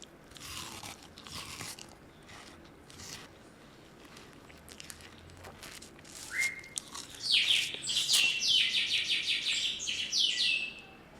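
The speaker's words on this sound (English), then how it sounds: "That's a loud bird, sorry." A loud bird chirps outdoors in a rapid series of high, sharp tweets that builds toward the end, following softer scattered clicks and crunchy sounds.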